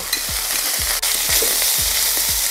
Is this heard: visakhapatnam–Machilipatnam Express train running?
no